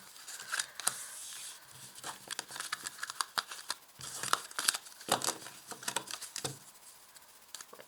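Tarot cards are shuffled, drawn and handled close up, a busy run of papery flicks, slides and crinkly taps in uneven bursts, with no voices.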